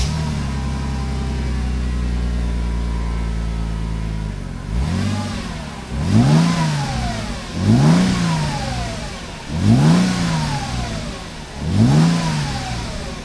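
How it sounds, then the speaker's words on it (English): A Mercedes C32 AMG's stock exhaust idles low and steady, then revs four times in even bursts, each climbing and falling back, fairly quiet and close, with no talking. "So I'm going to show you what it sounds like stock,"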